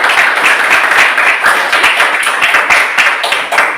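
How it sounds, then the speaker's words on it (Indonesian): A class applauds a student, giving a dense, steady round of hand clapping that stays loud and even throughout with no talk over it. "Kita tepuk tangan dulu."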